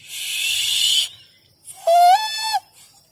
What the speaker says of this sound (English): A guard blew his whistle,